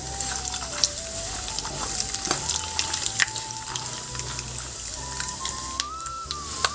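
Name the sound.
tempering seeds, cumin and peanuts frying in a pan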